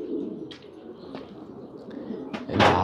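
Pigeons on a rooftop cooing in soft repeated calls, with a brief flurry of sharper sound near the end, heard fairly close over a low outdoor background.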